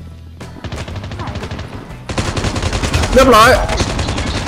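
Rapid machine gun fire from a shooting video game rattles in dense bursts, growing louder and heavier partway through, with someone briefly talking over it.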